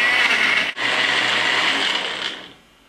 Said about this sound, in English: So blend it for a minute till it becomes puree.